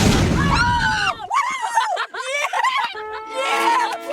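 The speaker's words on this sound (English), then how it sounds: "It exploded and put out the fire!" A sudden loud burst opens, then excited shrieks and laughter from several people follow right after it.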